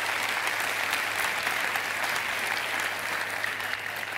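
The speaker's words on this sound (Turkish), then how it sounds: "Alkışlar Betül Hanım'a gelsin." Studio audience applauding on a Turkish television talk show as a guest is welcomed, a steady, dense wash of clapping that holds at even loudness throughout with no voices over it.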